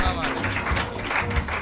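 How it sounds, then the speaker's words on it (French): Applause from a crowd at a lively event, rising for friends from a pizza stand, dense clapping mixed with voices and background sound over a brief stretch. "applaudissez pour nos amis de la station pizza"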